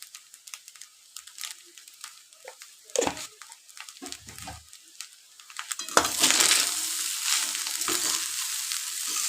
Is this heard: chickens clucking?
no